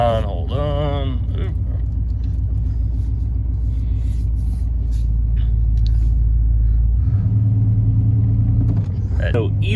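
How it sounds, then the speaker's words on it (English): A pickup truck's engine rumbles low and steady as it drives along, with a voice speaking briefly at the start and again near the end. "So we're gonna put it in drive"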